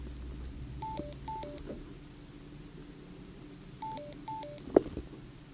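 Electronic two-tone beeps from a Sena GoPro audio pack powering up, two paired chirps early and two more later, fairly faint over a hissy background hum, followed by a sharp click.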